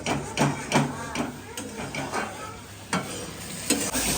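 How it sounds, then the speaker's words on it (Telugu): Masala sizzles in hot oil in a pan while being stirred, with repeated scraping strokes and bursts of crackling over a steady frying hiss, close and moderately loud. "ఆయిల్ పోసేసి మంచిగా మసాలా అయితే ఫస్ట్ వేగనిస్తున్నాను"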